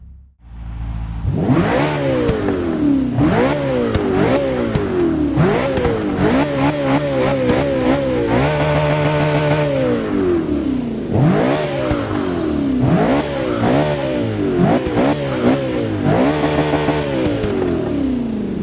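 A McLaren 650S with its 3.8-litre twin-turbo V8 in Forza Motorsport 6 revs loudly and repeatedly, its pitch climbing and dropping through a run of quick gear changes, steady and up close with no talking.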